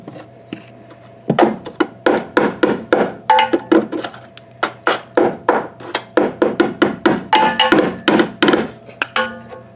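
Repeated hammer blows on the rusted rear body of a 1994 Saab 9000, roughly two dozen sharp metallic knocks in an irregular rhythm, close and loud with no talking.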